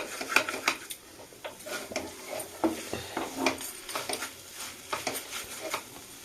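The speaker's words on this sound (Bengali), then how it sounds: "ঘি দিয়ে দিলাম এটাকে ভালো করে নেড়ে সেড়ে নেব" Dry vermicelli (shemai) frying in ghee in a pan, stirred steadily with a utensil: a soft continuous sizzle under repeated close scrapes and light clinks against the pan.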